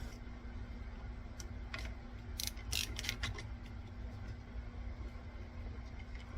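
End cap bolts are run down on a Ford 9-inch differential during gear assembly, making light ratcheting and metallic ticking that peaks briefly in a short cluster of clicks over a steady low hum, with no speech.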